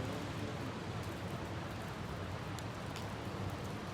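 Rain in the video game Kidnapped Girl, a faint, steady hiss of falling rain that continues unbroken throughout.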